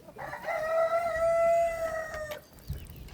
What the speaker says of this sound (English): And then I got the rooster